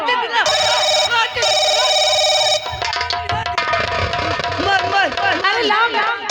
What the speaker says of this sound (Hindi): अरे माँ ये तो पापा का फोन है।